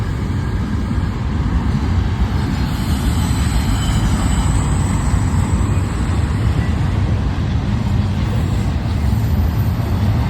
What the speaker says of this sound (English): A literal second train meet.